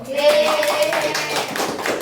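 A class claps together for a couple of seconds during a Quran recitation lesson, busy, close-sounding hand claps with a voice mixed in.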